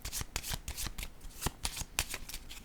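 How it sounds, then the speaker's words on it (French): Playing cards handled and drawn from a deck during a money card game, giving a quick run of crisp, close paper snaps and flicks with no talking. "Je vais piger une carte sur le voleur."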